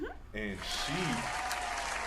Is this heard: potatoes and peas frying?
no